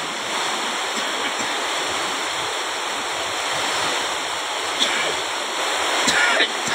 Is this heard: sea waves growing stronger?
yes